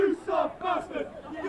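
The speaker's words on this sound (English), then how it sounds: "The shout of "You suck mustard" going on by the Robinhood crowd" Football crowd at the Bistro Cup 2012 chants a jeering taunt in rhythmic, loud group shouts that rise and fall in quick bursts.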